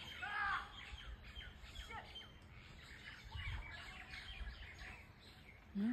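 Birds chirp and squawk outdoors in scattered, faint calls from a distance, with a few louder squawks standing out over quiet background rustle during an outdoor walk.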